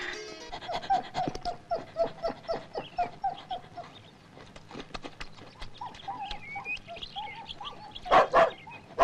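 Several dogs bark in short bursts from close range, with a louder cluster of barks near the end, in a Malayalam film scene; no speech, and panting is not clearly distinguishable.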